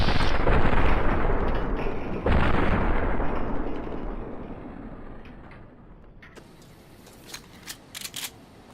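Heavy, sustained gunfire and explosive booms from the video game Fallout: New Vegas roar loudly at first, then fade into quieter rumbling with a few sharp pops near the end.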